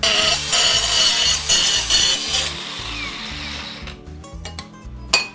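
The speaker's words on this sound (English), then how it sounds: "I found this scrap of aluminum sort of wherever, and this side only has one extra hole drilled in it, so we're gonna slice her here" A power tool cutting a scrap of aluminum for a Jeep bracket, a loud, steady high-pitched grinding whine that cuts off partway, followed by scattered clinks and rattles.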